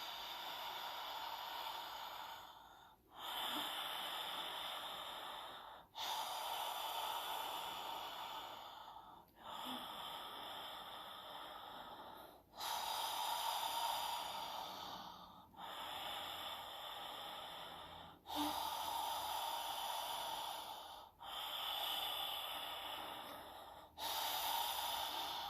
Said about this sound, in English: breathing in through the mouth